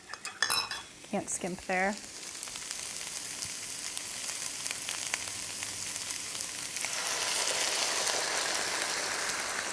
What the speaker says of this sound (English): I'm gonna go ahead and add in some of this wine